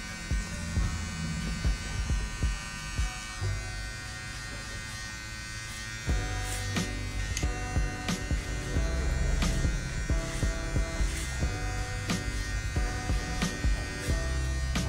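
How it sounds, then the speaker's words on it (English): An electric hair clipper buzzes steadily while cutting hair over a comb during a fade haircut, a continuous close hum with slight shifts as the blade moves through the hair, with no one talking. "Clipper over combing is honestly a technique that everybody needs to master."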